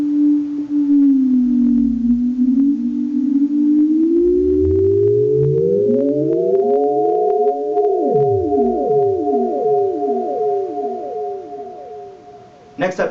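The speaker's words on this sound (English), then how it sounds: "let me show you the sine wave. I'm going to throw some tape echo on there for a full 50 sci-fi effect." Korg King Korg synthesizer playing a sine wave through tape echo: a pure tone that bends and glides upward, then repeats in cascading echoes that sweep down and fade, a retro sci-fi effect ending with a short click.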